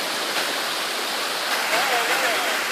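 Rincon Waterfall pours in a steady, loud, full-bodied rush of falling water that holds constant from start to finish, with no speech on top.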